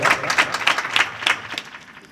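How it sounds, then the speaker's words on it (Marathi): A kirtan audience claps for their guru, bursts of applause with rhythmic peaks repeating through the short stretch, moderately loud and fairly close, with some voices mixed in. "गुरुजीसाठी जोऱ्यात टाळी वाजवा एक बार"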